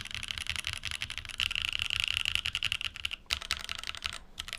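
Steady typing on the alpha keys of a Tofu 2.0 mechanical keyboard, a dense run of crisp, close clacks with a brief pause near the end, heard alone.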